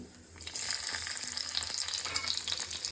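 Garlic and cumin seeds fry in hot oil in a pan, the sizzle jumping up sharply after half a second into a bright, crackling hiss with stirring scrapes, close and continuous with no voices.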